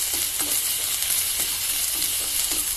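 Garlic and ginger paste fries in a pan for an Assamese fish curry. A steady, close hiss of sizzling oil is punctuated by a few soft stirring scrapes.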